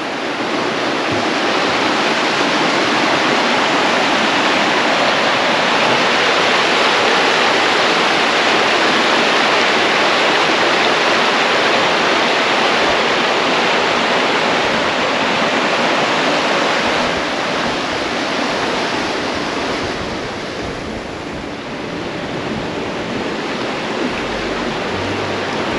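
Mine Creek rushing through rainforest, a loud, dense, unbroken roar of flowing water that stays steady and close for the whole stretch.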